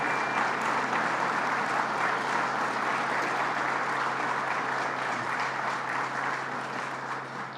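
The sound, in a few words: audience round of applause at news conference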